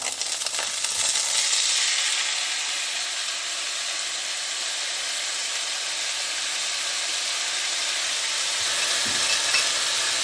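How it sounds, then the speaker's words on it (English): Potatoes sizzle steadily in a hot pan as they go in, a loud, continuous bright frying hiss lasting throughout with slight stirring texture and no talking. "All right, we're gonna throw our potatoes in"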